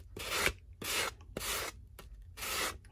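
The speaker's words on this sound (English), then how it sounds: "Now we're going to fold it. And sand it." A folded paper card for a waterfall flip card is sanded in four close, steady rubbing strokes, each a raspy scrape lasting about half a second with short pauses between, in a quiet room.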